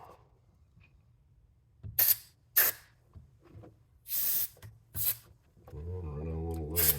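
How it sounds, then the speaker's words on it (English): Brake parts cleaner is sprayed during a front brake master cylinder rebuild on a 2007 Honda CBR600RR, coming as several short, sharp aerosol hisses in separate bursts, followed by a brief low hum near the end. "run a little brake part cleaner"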